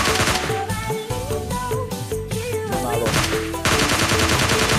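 Rapid bursts of gunfire crackle close by over busy game music in PUBG Mobile Lite, shots overlapping in quick succession.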